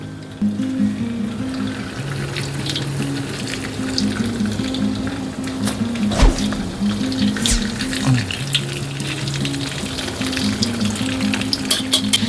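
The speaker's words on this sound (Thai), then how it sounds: "ต้มกับน้ำมันไปเลยครับผม" Pieces of pork for sweet Korean-style pork bubble and sizzle steadily in hot oil, a close, continuous frying hiss with crackling pops throughout.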